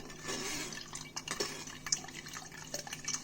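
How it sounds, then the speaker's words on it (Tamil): Agathi leaf soup strained through cloth, liquid trickling and dripping steadily into a vessel below, faint and close with scattered small drips and splashes. "இப்படி நல்லா எசன்ஸோட கீழே நம்மளுக்கு சூப் ரெடி ஆயிடும் ஃபுல்லாக வடிச்சு எடுத்துக்கோங்க"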